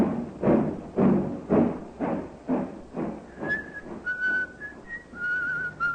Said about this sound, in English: He's whistling merrily